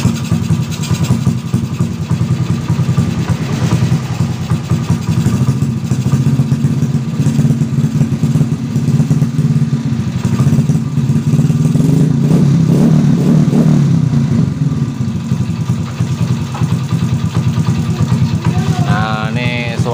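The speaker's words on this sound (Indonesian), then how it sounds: "nih suaranya nih di sini mesinnya nggak tahu nih, belum tahu dari mana nih, dari keteng apa dari mesinnya" A Yamaha Jupiter Z motorcycle engine running rough, heard close up as a continuous loud idle with a rapid uneven clattering and ticking pulse, a brief faint voice near the end.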